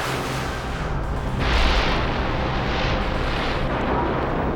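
Spacecraft vertical thrusters fire as a sci-fi audio drama effect, a loud roaring rumble that swells sharply and then holds as a sustained blast.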